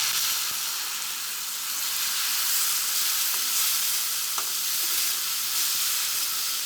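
Tomato paste sizzling in a hot frying pan with fried onions, a steady bright crackling hiss with occasional stirring scrapes, close and continuous with no talking.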